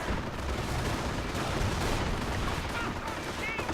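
Dense, continuous battle noise from Company of Heroes, with Panzerschreck rocket launchers and gunfire blasting in overlapping bursts, loud and unbroken throughout.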